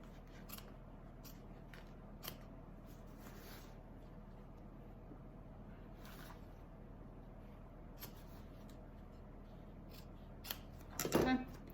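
Scissors snipping away bag lining fabric, faint scattered cuts over a quiet room hum, then a louder close burst of cutting and rustling near the end.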